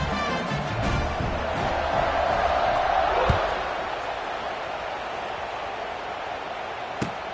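Stadium crowd in the College Football 26 video game keeps up a steady, loud buzz after a score, a broad wash of cheering and murmur that fades slightly in the second half.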